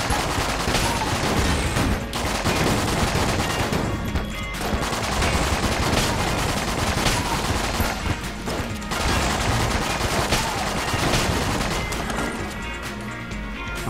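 Constant, dense gunfire from the top-down roguelike shooter Enter The Gungeon: rapid overlapping shots and bursts at full loudness with no pause, over about fourteen seconds.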